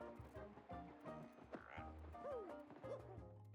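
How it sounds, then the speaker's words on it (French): Repeated frog croaks from attacks in Paper Mario: The Thousand-Year Door sound in quick succession, bubbly and close, layered over game music with no talking. "J'aime bien le bruit de grenouille quand je tape."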